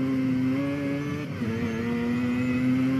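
A Mazda RX-7 engine revs steadily in the Forza video game during a touge run, a loud sustained drone with a brief dip in pitch midway before climbing again.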